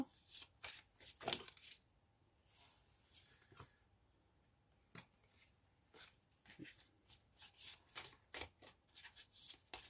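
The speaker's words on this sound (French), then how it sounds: "je les mélange un petit peu" Oracle cards being shuffled by hand, a run of crisp papery riffles and flicks in irregular bursts, close and quiet, with no talking.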